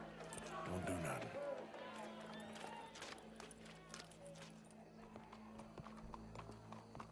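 Horse hooves clip-clop at a steady run through a Red Dead Redemption 2 game scene, the rhythmic thuds blending with ambient game sounds, a neigh or snort, and people talking over them.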